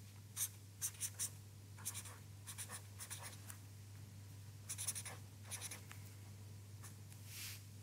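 A pen scratching on paper at a table, a run of short scribbling strokes in quick bursts with pauses between, close and quiet over a steady low hum.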